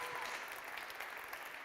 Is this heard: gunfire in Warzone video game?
no